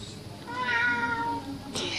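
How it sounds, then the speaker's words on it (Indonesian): A cat gives one drawn-out, wavering meow close by, followed by a brief noisy rustle, over a quiet low hum. "itu bunyi kucing."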